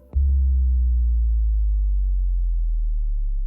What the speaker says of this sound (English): I basically trade the sub for this super long like sub drop